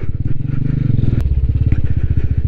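A motorcycle ridden alone up a rocky, stony mountain road, its engine loud and close with a pulsing, chugging rhythm that shifts pitch midway, along with faint clatter from the rough ground.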